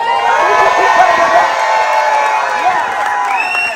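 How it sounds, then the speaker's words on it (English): A large crowd cheers and shouts loudly, with whoops and scattered clapping blending into a sustained roar. "Let us give him a round of applause."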